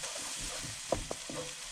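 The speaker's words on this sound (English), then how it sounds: "And stir those in" Salt and black pepper are stirred into a frying pan over low heat during saag aloo preparation. There is a soft low sizzle with a few faint scrapes and taps of the spoon, quiet and close.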